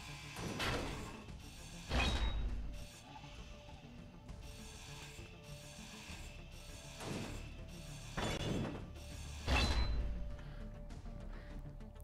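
A hand grinder cuts away the corner blocks of a structure in the video game Space Engineers. It gives a steady mechanical rasping whine, with louder bursts swelling in at intervals and a grinding hum continuing between them.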